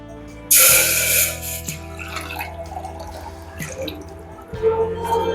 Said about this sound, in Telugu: సేమ్ కప్ తోటి కప్పు నిండా వాటర్ తీసుకున్నా